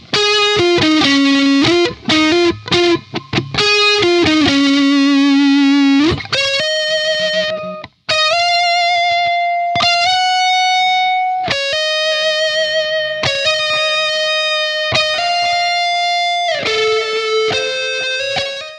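Loud distorted electric guitar plays through amp-sim plugin pedals (reverb, delay, drive, noise gate), fast choppy notes at first, then long sustained held tones with a brief cutoff midway.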